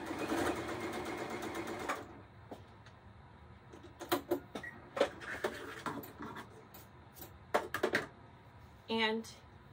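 A sewing machine stitches a curved seam through gray quilt fabric, running in a steady dense buzz for about two seconds before stopping, then giving way to scattered light clicks and handling taps with a brief whirring burst near the end.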